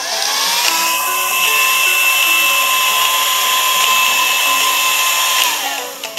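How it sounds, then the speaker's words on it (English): A blow dryer with a red balloon jammed into it runs with a loud, steady motor whine and airy rush, rising in pitch as it spins up, holding constant, then winding down near the end. "You gotta stick the red balloon into the blow dryer,"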